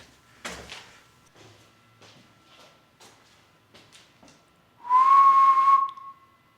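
Someone inside an old county jail whistles a single sustained, clear note lasting about a second, preceded by faint knocks and shuffling in the quiet room.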